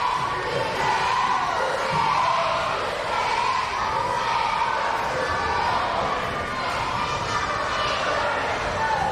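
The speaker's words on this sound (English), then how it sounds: "The crowd taunting the Blackhart as Seth Gregg renders aid to his man." Dense wrestling arena crowd at a CCW title match, a steady loud roar of voices jeering at the wrestler Blackhart, continuous and close throughout with no let-up.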